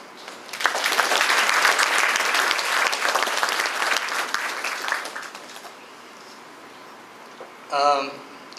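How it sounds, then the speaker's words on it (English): Audience at a university biotechnology induction ceremony bursting into a big round of applause, loud dense clapping that swells and then tapers off over several seconds before a short burst of other sound near the end. "congratulate yourself with a big round of applause"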